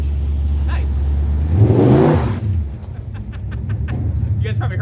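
A truck with a Chevy 302 engine making about 600 horsepower roars as it accelerates past, swelling loud and broad over a steady rumble, then fading, with people talking nearby.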